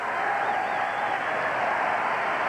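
Dodgers fans in a baseball stadium crowd clapping and cheering after a hit, a steady wash of applause from a large distant audience, with a commentator's voice faintly over it.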